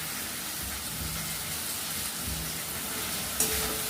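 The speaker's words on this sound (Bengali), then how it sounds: "এবার টমেটো কুচিটাও দিয়ে দিচ্ছি। ভেজে নেবো, ভালো করে মশলাটাকে কষে নেবো" Chopped tomato and spices frying in oil for a village-style mutton curry, a steady loud sizzle with faint stirring, close and continuous, with no voices.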